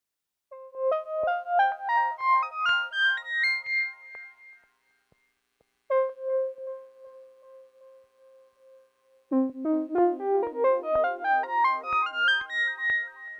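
A Moog Matriarch synthesizer plays rising stepped arpeggios with a tremolo LFO pulsing the volume, pausing on a held wavering note before a lower, denser arpeggio climbs again; clean and alone.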